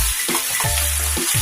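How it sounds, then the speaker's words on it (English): Deer meat sizzles and browns with tomato sauce in a pan, giving a constant close hiss with some faint low clatter underneath. "You can hear the sizzling, and that's exactly what you want, because it's helping you brown your meat."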